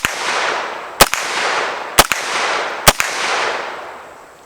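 Gunshots fired at metal plate targets while testing a Feyachi reflex sight, three sharp loud cracks about a second apart, each trailed by a long fading echo outdoors, with no talking.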